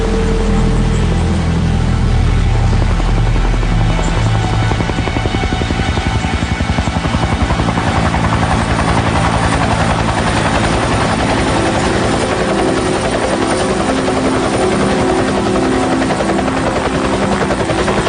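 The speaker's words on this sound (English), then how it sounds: "Helicopter's still one of my favourite sounds." A helicopter roars loudly and continuously, its rotor thudding in a rapid rhythm that intensifies as it seems to pass close overhead.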